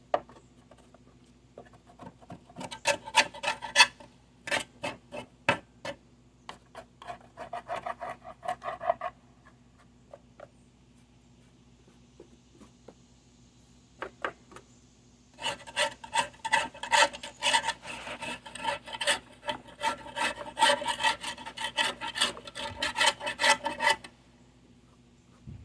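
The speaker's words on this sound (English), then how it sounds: "That's just what I did with the scraper." A scraper rasps grass off the underside of a lawn mower deck. Bursts of quick, gritty scraping strokes come in clusters separated by short pauses, close and fairly quiet.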